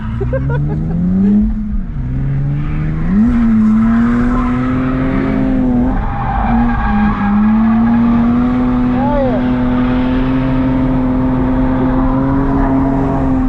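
A drift car at an Indy drift event holds a loud, sustained engine drone that rises and falls as the driver revs, with tire squeal mixed in. The sound is close and continuous.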